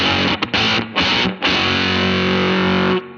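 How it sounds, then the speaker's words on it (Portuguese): Electric guitar through a fuzz with an added octave in Positive Grid Bias FX 2, with an envelope-filter-like quack. A few choppy distorted stabs come first, then one sustained, thick, buzzing note rings loud before cutting off. "Som quase de envelope filter, né?"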